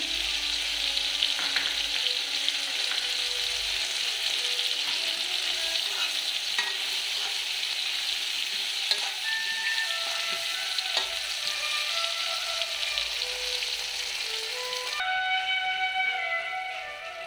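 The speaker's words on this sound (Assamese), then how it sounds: "বেছি সময় ভাজিব নালাগে অলপ সময় ভাজিম" Sweet jujube pickle cooking with melted jaggery in a pan, a steady hissing sizzle with light stirring scrapes that carries on evenly, thinning slightly near the end, no voices.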